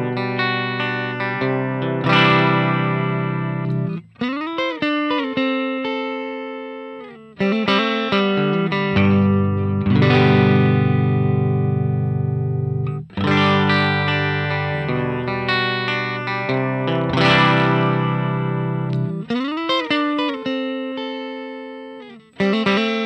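An electric guitar runs through a BOSS BP-1W pedal, giving thick, boosted, slightly gritty sustained chords and single notes in phrases with brief pauses between them, played alone.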